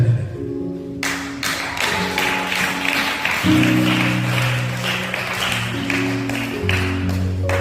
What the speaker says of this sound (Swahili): Ongeza makofi na vigelegele kwa Yesu